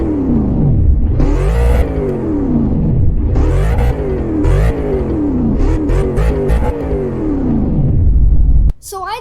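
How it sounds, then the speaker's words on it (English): A 2021 BMW M550i xDrive saloon's V8 exhaust revs hard in several loud, rising and falling bursts close by, with a sharp cutoff near the end. "Let's hear that exhaust note"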